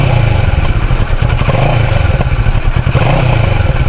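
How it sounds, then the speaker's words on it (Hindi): A Kawasaki Versys 650 twin-cylinder touring motorcycle's exhaust rumbles steadily and loudly up close with a throbbing low idle and faint clatter. "तो एग्जॉस्ट देखते हैं इसका कैसा है"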